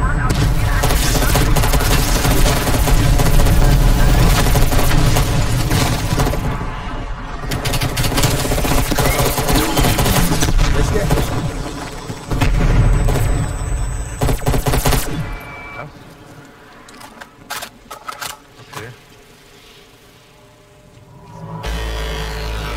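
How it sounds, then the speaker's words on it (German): Gunfire and cannon blasts from Call of Duty Black Ops Cold War zombies mode: loud, dense bursts of shots for about fifteen seconds, then sparser scattered bangs and a quieter stretch. "Hier ist eine Kanone, guck mal da."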